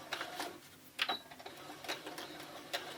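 A sewing machine back stitches a pillow cover, giving short bursts of needle clatter with a light whir, faint and close, repeating in quick irregular runs.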